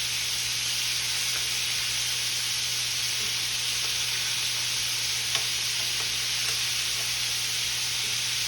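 Chicken pieces fry in a pan with a loud, steady, close-up sizzle and hiss that runs without a break.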